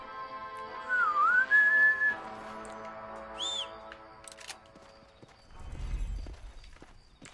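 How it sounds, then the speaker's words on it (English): In the Red Dead Redemption video game, a rising whistle calls a horse, followed by hoof clip-clops, a brief chime and a low rumbling thud, all at moderate level. "That's how we whistle our horse."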